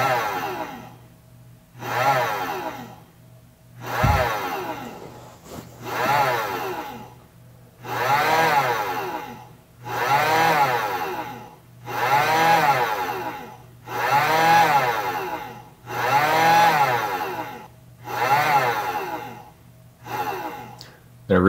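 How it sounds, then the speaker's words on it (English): Heater fan motor inside a 3D printer enclosure cycling on and off in regular pulses, about nine whooshing bursts roughly every two seconds with a steady low hum beneath, fairly close and with no talk. "the motor will stay on longer and longer, and the heating coils will stay on longer and longer."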